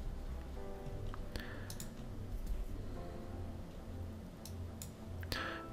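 Computer mouse clicks on a Windows 11 PC, a few sharp close clicks scattered over a steady low hum, some in quick pairs.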